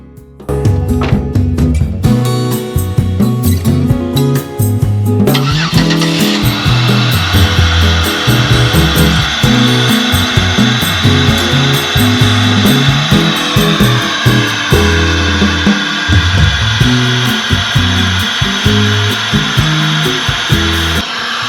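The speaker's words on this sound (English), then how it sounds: "Cold air intake's noisy in the morning, ain't it?" A 2004 Buick LeSabre engine runs steadily on a cold morning, its noisy cold air intake giving a loud, continuous whooshing drone with a rising whine after a few seconds, close and unbroken with no talk.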